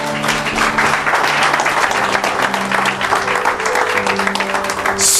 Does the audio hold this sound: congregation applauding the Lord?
yes